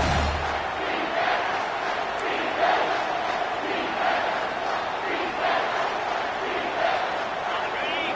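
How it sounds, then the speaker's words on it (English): A large home crowd roars steadily at a college American football game between the Huskies and the Bulldogs on a third-down play, a dense, sustained wash of distant cheering with a commentator speaking over it. "Here comes this home crowd as the defense tries to get off the field on 3rd down."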